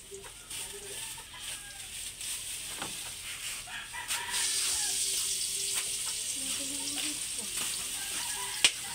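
Shrimp paste (alamang) sizzling in a cooking pan, a steady hissing fry that swells as it is stirred, with clinks of utensils, occasional voices and a rooster crowing in the background.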